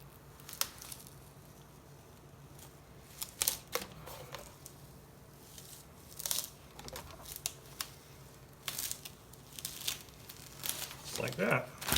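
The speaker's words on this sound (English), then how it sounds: "And slowly peel it away. You kind of want to peel it away at a 45-degree angle." An adhesive sheet being peeled slowly away at a 45-degree angle gives quiet, intermittent crackly tearing bursts, with soft talking in the background.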